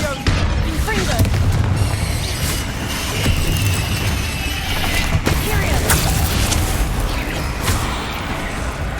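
In the Hogwarts Legacy video game, the Confringo blasting spell goes off in a string of booming bursts and sharp pops amid ongoing mechanical game sounds and a busy action mix.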